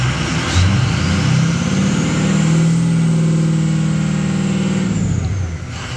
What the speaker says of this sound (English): You can hear the turbo kick out an open vane for the whistle, or closed vane